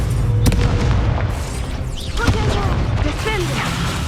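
An Incendio fire spell blasts in Hogwarts Legacy, a loud booming burst with sharp pops and whooshing magical sweeps layered over ongoing battle noise.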